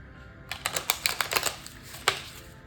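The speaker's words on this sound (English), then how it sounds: "I kind of want to actually shuffle this deck" Tarot cards riffle and snap quickly in a rapid burst of crisp clicks, then a single sharper tap after a short pause.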